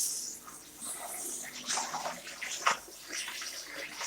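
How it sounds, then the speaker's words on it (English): Placemats being hand washed in water, with splashing and sloshing that swells and fades in irregular bursts, close and fairly quiet with no talking. "I'm trying to hand wash it clean"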